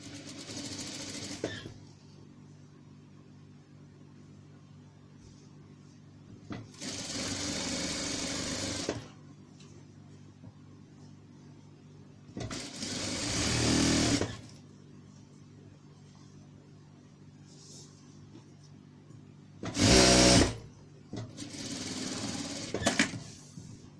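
A sewing machine stitching a pillowcase runs in several separate bursts of steady whirring and rattling, from a few seconds long to brief, with quiet gaps between them.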